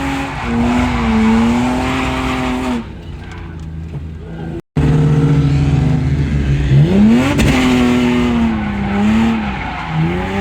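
Car drifting in a racing sim video game, a loud engine revving hard with sustained tire squeal that rises and falls, cut off briefly by a sudden dropout before the screeching and engine roar resume.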